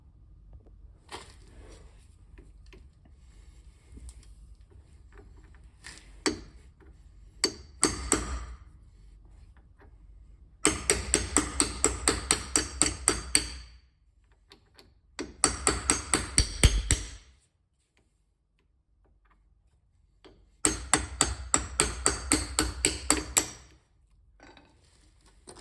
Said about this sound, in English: Just beat on a little bit with a hammer to try to push the axle out.